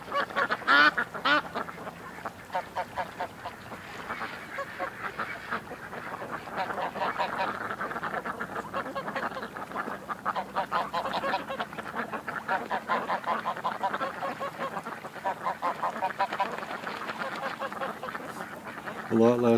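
A big gathering of pretty ducks, many of them quacking and honking together in a steady, busy chorus that lasts throughout, with a voice speaking now and then over the flock.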